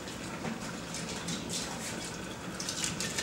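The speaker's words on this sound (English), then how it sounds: "We'll put some water in." Water is poured steadily into the bladder of a 13-litre PET osmosis storage tank, giving a continuous, fairly quiet gushing splash with no talk.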